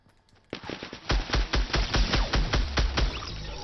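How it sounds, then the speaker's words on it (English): Submachine gun fire in Fortnite: a rapid string of loud, close shots in quick bursts, about a dozen sharp cracks after a brief quieter start, with no talk over them. "that guy was like shooting with a submachine gun"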